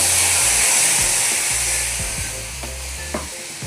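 Milk and water hitting a hot pan used for semolina sheera, a loud close hissing sizzle that slowly settles, with a few knocks of a utensil.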